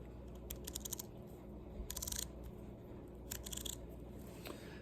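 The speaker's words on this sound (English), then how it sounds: "So when you turn the bezel, of course it's a one-turning unidirectional bezel." Unidirectional bezel on a 47mm Citizen Super Titanium BN2036-14E watch being turned, giving three bursts of crisp ratcheting clicks at close range over a steady low background hum.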